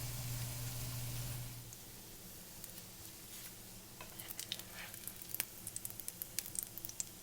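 Homemade bacon strips sizzling while they cook: a steady, soft hiss with a low hum early on, then scattered crackles and pops that grow busier toward the end.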